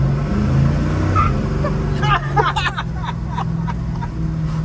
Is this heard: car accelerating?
yes